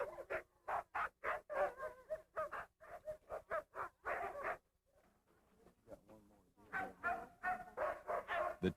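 Sled dogs barking outdoors at the kennels in Denali National Park, Alaska, with sharp, rapid, fairly close barks in bursts, a short lull, then renewed barking.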